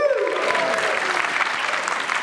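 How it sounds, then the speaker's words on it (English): Short burst of audience applause at a Liverpool comic con panel, fairly loud and close, with a brief whoop or vocal note at the start before the clapping carries on steadily. "can we have a round of applause now?"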